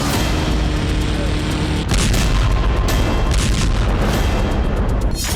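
Explosions from drone attacks in Chernihiv, Ukraine, a heavy, continuous rumbling roar with a sharp jump in loudness partway through, loud and close, with no clear talk.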